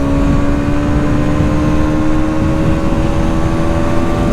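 Bajaj Pulsar NS200 motorcycle engine pulling hard in third gear, a loud steady drone with a sustained engine tone throughout, no voices.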